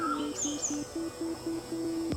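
A bird sings outdoors in a natural setting, giving a repeated series of short, evenly spaced chirps with a few higher whistled notes, fairly close and clear over a quiet background.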